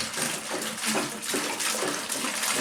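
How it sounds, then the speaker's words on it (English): Water poured from a jug into a container already squirted with dish soap, a steady, loud rushing splash that continues throughout with no talking. "I'm going to dump this water in here."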